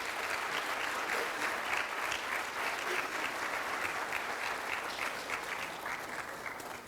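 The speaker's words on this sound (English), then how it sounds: "please give a big round of applause to Miss Mackenzie Howard as she comes forward to accept her finalist" Steady audience applause for an award finalist trophy recipient at a high school hall of fame ceremony, dense clapping sustained throughout and easing slightly at the end, with no talking over it.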